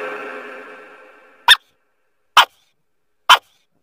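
Three short, sharp dog barks spaced about a second apart, each isolated and clear, following a fading tonal musical sound.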